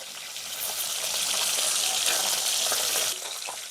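Large puti (pool barb) fish frying in hot oil give a loud, steady sizzling hiss that runs continuously and eases slightly near the end.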